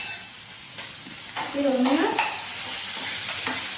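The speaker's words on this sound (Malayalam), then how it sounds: "എണ്ണയിലേക്ക് നമുക്ക് ആദ്യം ഇഞ്ചി ഇട്ട് കൊടുക്കാം, വെളുത്തുള്ളി ഇട്ട് കൊടുക്കാം, നമ്മുടെ പച്ചമുളക് ഇട്ട് കൊടുക്കാം" Ginger, garlic and green chili fry in oil for ghee rice, a soft, steady sizzle with a spatula stirring and scraping through it, close by, and one brief spoken word.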